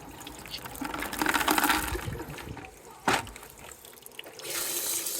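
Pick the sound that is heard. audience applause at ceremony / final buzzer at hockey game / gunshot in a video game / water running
water running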